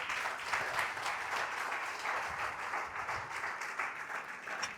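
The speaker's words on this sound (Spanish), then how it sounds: "Y usted aplaude al Señor en esta tarde." A church congregation applauds steadily through the whole stretch, a dense and even wash of clapping with no talking heard over it.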